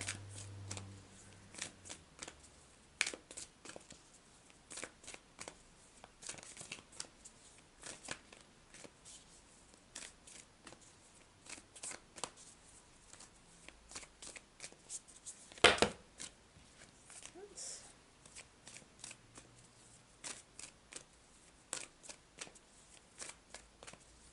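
A tarot or oracle deck is shuffled and handled in a quiet room, with soft papery riffles and flicks recurring irregularly and one sharper snap midway, faint and close, with no talking.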